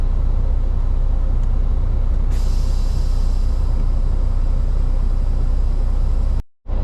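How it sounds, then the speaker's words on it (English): A tractor trailer idles with a steady engine drone, then its air brakes let out a sudden hiss that fades slowly during a service brake test, and the sound cuts out briefly near the end. "The next test I will perform is the service brake test."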